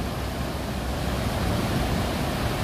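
Ocean surf at Holtekamp Beach in Jayapura, Papua, rolls in as a constant broad roar of breaking waves, close and loud, with no voices.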